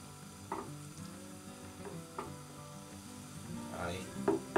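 Rice added to cod and potatoes in a pan sizzles steadily at low volume, with occasional scraping stirs and light clinks of a utensil against the pan.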